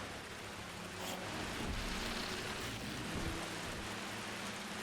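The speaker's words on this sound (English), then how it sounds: "It's like rain hitting tin. Like a tin roof." Rain drums on a tin roof in the video game BioShock 2, a dense, steady wash of patter that swells slightly midway and carries on unbroken with no voices.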